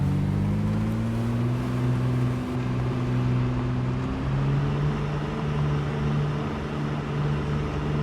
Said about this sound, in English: The problem with this is this engine's very loud